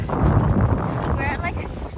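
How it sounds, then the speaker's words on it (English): Strong wind gusts buffet the microphone on a clouded Ben Nevis mountainside, a loud rumbling roar under a person talking. "It's windy."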